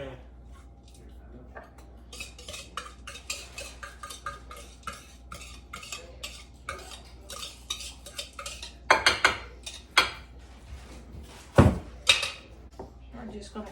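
Pretzel crust being pressed into a 13 by 9 casserole pan, with scattered scraping, tapping and clinking of a utensil against the pan and a louder knock or two, under intermittent talk.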